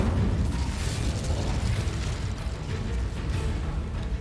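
Incendio fire spell cast in Hogwarts Legacy erupts in a sustained roaring burst of flame, loud and dense with crackling pops and booming rumble that rolls on without pause.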